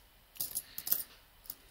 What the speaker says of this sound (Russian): Польские монеты Сигизмунда.